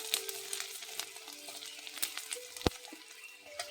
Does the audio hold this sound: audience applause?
no